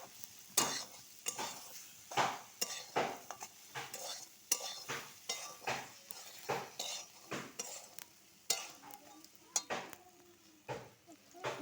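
A utensil stirs soybeans around a cooking pan in repeated rhythmic scrapes and metallic clinks over a light sizzle, close and fairly quiet.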